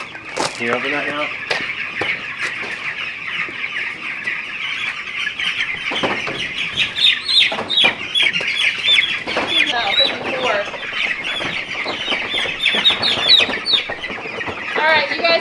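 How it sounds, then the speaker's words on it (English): Several chickens on a farm cluck and squawk close by, a busy overlapping chatter of short calls that continues throughout, with some rustling and scattered knocks. "let's get these chickens out on pasture"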